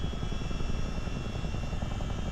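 A Chinook CH-47D helicopter in Microsoft Flight Simulator flies low at speed, its rotors and engines making a dense, constant, loud roar with a fine rapid beat and no pauses.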